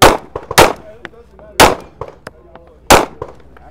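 A Springfield 911 pistol fired at SHOT Show 2018 gives four loud, sharp shots in quick, uneven succession, with faint clicks and small knocks between them and no talk.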